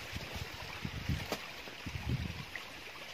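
Irrigation water runs into a banana field in Sindh, a steady broadband rush of flow buffeted by strong gusts of wind that cause low rumbling bursts throughout.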